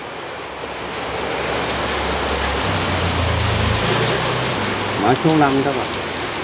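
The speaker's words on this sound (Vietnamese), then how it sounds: "Bữa nay mưa quá các bạn ơi" Heavy rain pours steadily at an open-air market selling apricot blossom bonsai stock, a dense hiss filling the air while a vendor talks over it.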